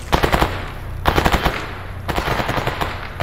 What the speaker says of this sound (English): Am I being shot at?